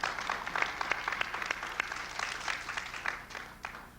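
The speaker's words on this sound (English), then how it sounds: "We're not supposed to allow clapping in the chamber" An audience claps in a council chamber during a budget hearing, a steady patter of many hands at moderate distance that holds for several seconds without speech.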